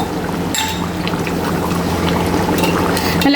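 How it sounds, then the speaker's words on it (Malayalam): Thick coconut milk, pressed from half a coconut, poured steadily into a simmering Kerala-style chicken curry with potatoes and curry leaves, a continuous close liquid pour and gurgle with brief clinks of the vessel. "അത് ഒഴിച്ചെടുക്കാം. ഒരു മുറി നാളികേരത്തിൻ്റെ കട്ടി തേങ്ങാപ്പാൽ."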